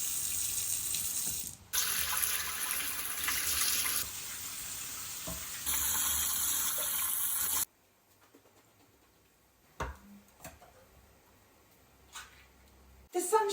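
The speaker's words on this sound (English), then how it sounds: "We'll rinse these off and then put them straight in the pan." Water from a kitchen tap runs hard and steady over canned black, red kidney and cannellini beans being rinsed, loud and close. The flow breaks off and shifts a few times before stopping, followed by a few faint clinks in a quiet kitchen.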